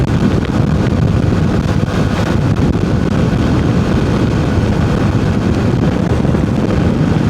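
Steady, loud wind buffets the microphone while riding a motorbike on the road between Kintamani and Gilimanuk in Bali, a continuous roaring rush with no speech.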